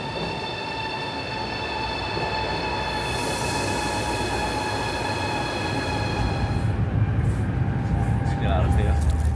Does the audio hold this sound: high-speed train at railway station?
yes